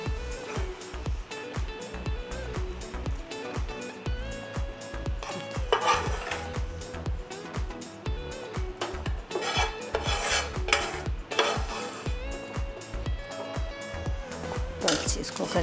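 Spoon scraping and clanking against a metal cooking pot while serving dum-style minced meat keema, with repeated close metallic scrapes and taps running through the clip as someone talks over them.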